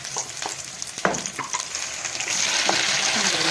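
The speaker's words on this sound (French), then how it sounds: "on va laisser les oignons revenir un petit peu" Onion pieces fry in oil for homemade pizza, a continuous close sizzle broken by a few sharp scraping stir strokes and clinks, growing slightly louder toward the end, with no talk.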